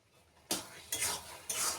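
Carrot halwa with crushed cardamom is stirred in a pan, making three loud, close scraping strokes that each start sharply and fade, with near-quiet before the first stroke.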